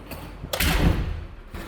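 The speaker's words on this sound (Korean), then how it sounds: "문을 열고 들어가면" An office door is pushed open, giving a soft thud and a broad whooshing rush, followed by a quieter knock near the end, close by with no talking.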